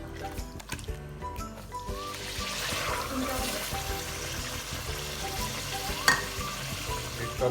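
Garlic and ginger paste frying in oil for beef nihari, a continuous soft sizzle with occasional stirring clinks and scrapes, moderately quiet and close.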